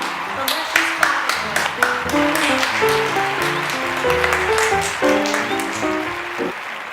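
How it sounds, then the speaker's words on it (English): A small audience claps in scattered, uneven strokes over a bright musical jingle, fairly close and lively. "let's just clap"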